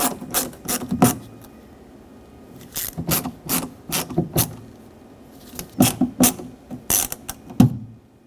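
Screws being driven into the rear door of a 2006-2010 Hyundai Sonata during a window regulator replacement, heard as several short bursts of ratcheting, clicking turns separated by pauses, close and fairly loud with no talking.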